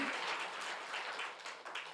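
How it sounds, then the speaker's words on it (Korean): A congregation at a Korean church's Sunday morning service applauds together, a soft, steady wash of many hands clapping that sounds fairly distant. "박수 한번 다 주는 게 할렐루야."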